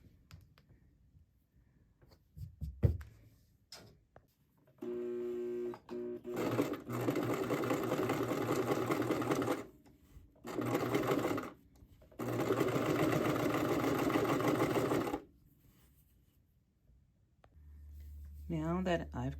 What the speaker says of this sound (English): Now that I've created my zigzag stitch at the hem, I want to put the pieces together.